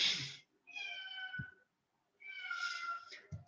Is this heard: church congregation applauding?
no